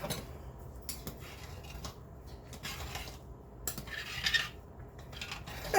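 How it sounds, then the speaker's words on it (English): A metal spoon scrapes and clinks around inside a metal pot, stirring thick homemade macaroni and cheese, with soft irregular knocks and a low background hum. "I'm going to go ahead and give her another stir."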